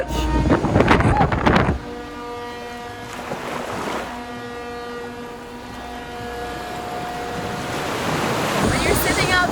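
Ocean waves washing around a large cargo ship at sea, a loud rushing surge up close with steady wind buffeting the microphone and a low mechanical hum underneath, no talk.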